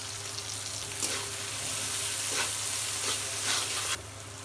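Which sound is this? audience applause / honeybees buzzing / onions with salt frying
onions with salt frying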